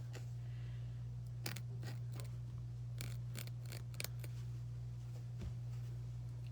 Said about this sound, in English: I take my little X-Acto knife and I cut out just a little half moon shape for the nose